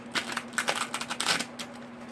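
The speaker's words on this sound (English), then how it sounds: "Okay, so I'm going to use Sacred Circle Tarot. I'm going to shuffle those now." Tarot cards are shuffled by hand in quick, papery riffling bursts over a faint steady hum, close and fairly soft.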